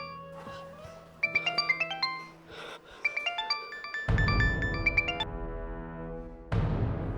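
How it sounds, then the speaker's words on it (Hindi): A melodic ringtone chimes in repeated bursts of tones, loud and close, broken by pauses and a louder electronic swell near the end, ringing in a tense domestic scene. "किसका फोन है?"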